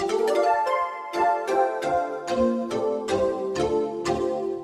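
Two blended synthetic flute pads play a series of gentle repeated notes with soft attacks, a warm airy layered tone throughout.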